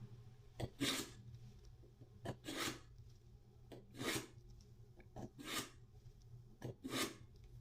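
A steel knife blade is drawn across a sharpener in about seven separate quick strokes, each a short bright rasp with pauses between, heard close and fairly quiet with no speech.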